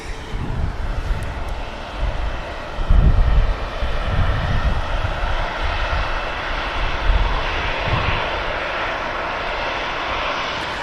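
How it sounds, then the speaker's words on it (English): A Ryanair jet airliner's engines roar at Manchester Airport, a loud, sustained, wide rumble with surging swells that keeps going without pause. "Ryanair here is off to Brussels, Amsterdam bound"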